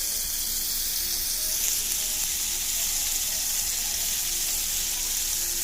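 Butter melting in a hot wok gives a dense, continuous hiss of sizzling that holds steady and fairly loud throughout, with no talking.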